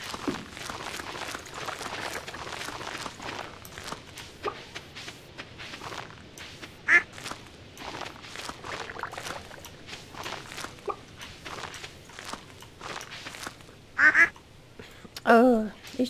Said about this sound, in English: Oh, these ducks get in the way.